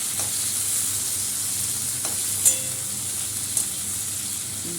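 Tomato frying in a pan, a steady broadband sizzle with a few faint stirring scrapes and clicks, close and continuous with no voices.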